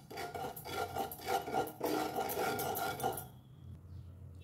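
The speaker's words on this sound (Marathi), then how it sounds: "आता मी पॅनमध्ये 2 चमचे खसखस भाजणार आहे" Two teaspoons of poppy seeds are dry-roasted on low flame in a pan for dry-fruit laddoos, producing a close, gritty rasping and rustling as they are stirred in rhythmic strokes, stopping abruptly near the end.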